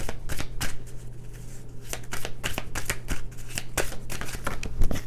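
Tarot cards are shuffled and drawn close up, a continuous dense riffle of papery flicks and snaps with a steady low hum underneath, no voice heard.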